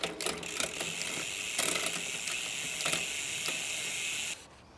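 A bicycle drivetrain is shifted through its gears, giving close, rapid ratcheting clicks over a steady mechanical whir that stops abruptly near the end.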